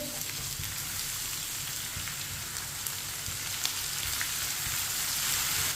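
Crushed ginger and garlic fry with whole cumin in a pan, giving a steady, dense, close sizzle that crackles evenly throughout with no voices.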